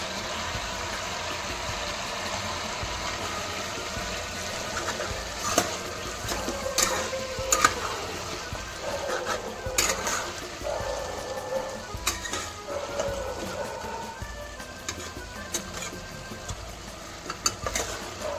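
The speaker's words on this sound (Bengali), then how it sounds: "এবার দিয়ে দেব আদা রসুন বাটা।" Ginger garlic paste being stirred into a pot of mutton curry with potatoes: soft sizzling and frying under scattered scraping and clinking stir strokes, fairly quiet and close, with no voices.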